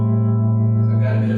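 Electric guitar played through a small tweed amp with no reverb, a sustained clean chord ringing with steady harmonic tone and a brief brighter strum near the end, close and alone.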